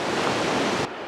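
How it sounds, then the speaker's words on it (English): Lower Reid Falls near Skagway pours down onto rocks as a loud, steady roar of broadband rushing water, close and continuous, dropping abruptly near the end to a quieter rush. "that's one of the best waterfalls I've seen in a long time. The way it comes down, hitting all those rocks"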